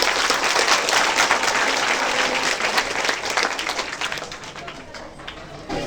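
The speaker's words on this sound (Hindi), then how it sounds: "एक जोरदार ताली हो जाए" Students at a Ram Lal Yadav Inter College event applaud loudly for the college's winner, a dense, steady crowd clapping that fills the room and tapers slightly toward the end.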